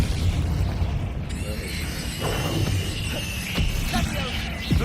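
A Confringo explosive spell cast in the Hogwarts Legacy video game, heard as a few bursts and pops over dense, steady game noise, with a voice speaking during the clip.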